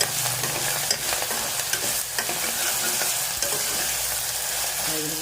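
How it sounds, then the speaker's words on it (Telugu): Boti curry with ginger-garlic paste frying on a low flame, a dense continuous sizzle with scattered stirring scrapes, loud and close. "వేసి ఇలా కలుపుకోవాలి లో ఫ్లేమ్లో ఉంచుకొని ఫ్రై చేసుకోవాలి"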